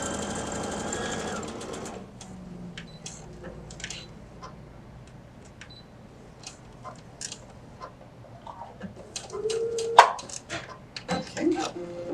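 A sewing machine stitching a zipper pouch runs in short, quiet bursts with scattered ticks and clicks of fabric handling between, close by but faint.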